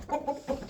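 A large rooster gives three short, close clucks in quick succession, each a brief throaty note.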